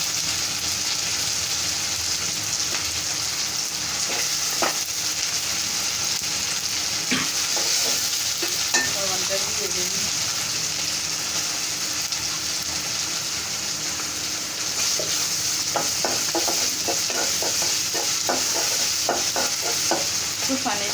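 Garlic, cumin and coriander fry steadily in a hot pan with a continuous close sizzle, with occasional stirring scrapes and clinks breaking through, and no talking.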